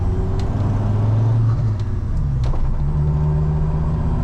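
A Ford Focus track car, largely home-built and fitted with a racing clutch, gives off a loud, steady low engine drone under hard acceleration, close and continuous with a brief dip in the middle.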